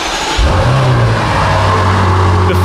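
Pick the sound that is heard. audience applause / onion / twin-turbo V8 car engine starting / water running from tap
twin-turbo V8 car engine starting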